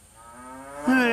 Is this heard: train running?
no